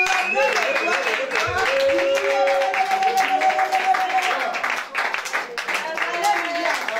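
A church congregation at a French-language worship service clapping together, steady rhythmic hand claps mixed with voices and music, fairly close and loud throughout.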